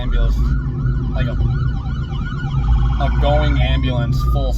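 An ambulance siren wails loudly nearby in traffic, its rising and falling cycles repeating over the rumble of a car interior, with a voice briefly heard.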